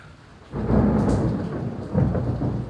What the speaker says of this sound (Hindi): भयानक अभी थंडर स्टॉर्म्स हो रहा